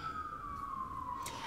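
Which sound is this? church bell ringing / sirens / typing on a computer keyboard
sirens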